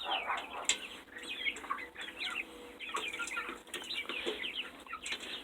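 Young chicks, Araucanas and light Bantams about two weeks old, clucking and peeping indoors, with a quiet, busy stream of overlapping chirps and soft calls.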